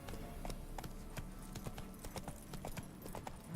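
Roach, a horse in a video game, trots with faint, rhythmic hoofbeats clopping evenly, and a brief snort or thump lands at the end.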